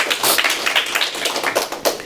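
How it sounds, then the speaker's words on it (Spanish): Church congregation clapping for God after a sermon, a brisk, dense burst of hand claps lasting about two seconds with no talk over it. "Denle otro aplauso a Dios."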